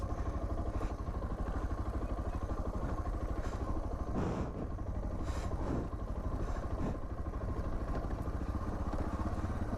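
A Suzuki DR650 dual-sport motorcycle engine chugs steadily at low revs on a desert downhill, a close, rough, continuous idle-like rumble with occasional clattering bumps.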